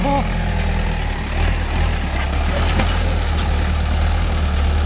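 A car engine idles close by in a steady low rumble that holds at an even level for the whole stretch, with faint background noise.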